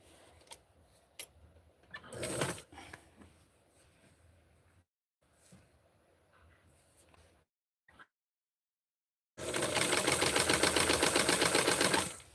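A sewing machine hems a small Barbie doll dress, starting and stopping in short runs before a loud, steady rapid stitching burst near the end, close up with no talking.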